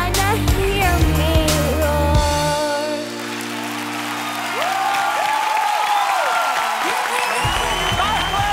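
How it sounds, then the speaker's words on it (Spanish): An audience at a televised talent-show audition first hears loud singing, then breaks into sustained clapping with scattered cheers and high whoops filling the room, and the music returns at the end. "Por favor, más fuerte el aplauso"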